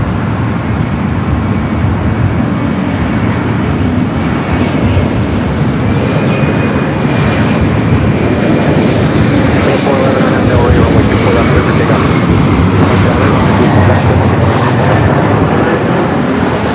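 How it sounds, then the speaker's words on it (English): A Singapore Airlines jet roars steadily during its takeoff run at LAX, a loud, continuous engine rumble and whine that holds for the whole stretch. "Singapore up next for takeoff."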